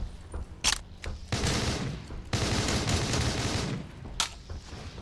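Gunfire in Call of Duty Black Ops 3 custom zombies, with an HVR sniper rifle: several sharp, loud shots mixed with sustained bursts of heavy firing, over a constant noisy game background.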